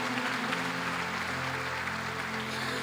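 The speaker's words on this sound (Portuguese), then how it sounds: "Vamos levantar as duas mãos para os céus e aplaudir o Senhor," A church congregation clapping together in worship, a dense, even wash of applause throughout, moderately distant with a low hum beneath.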